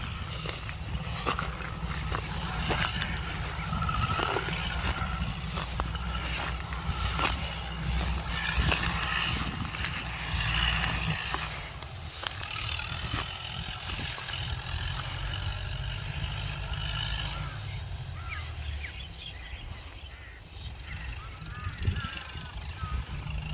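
A Massey Ferguson MF165 tractor plows an overgrown grassy field, its engine drone loud and continuous alongside rustling and clattering from the ground, with some talk mixed in.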